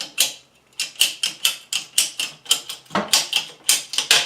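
Regular rapid cutting strokes on PEX water pipe, a series of crisp, evenly spaced snips or rasps close by, about two per second, with a short pause near the start.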